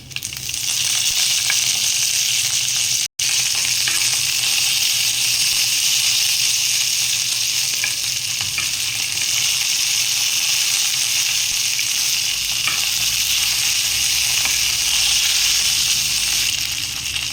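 Seven dried red chillies and a few curry leaves frying in hot oil, a loud, dense continuous sizzle with steady crackling, very close, briefly cutting out once before resuming.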